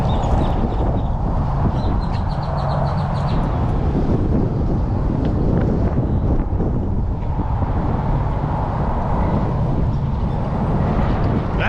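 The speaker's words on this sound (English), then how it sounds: "Kind of windy this morning" Gusty morning wind at a campsite near a Texas winery buffets the microphone with a constant low rumble and rustle, and faint bird calls drift through.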